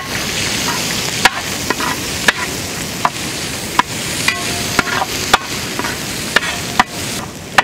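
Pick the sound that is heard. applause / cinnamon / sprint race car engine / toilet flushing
cinnamon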